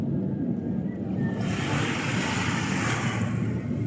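Continuous rushing surf with a steady roar of waves washing in, wind buffeting the microphone; no voices.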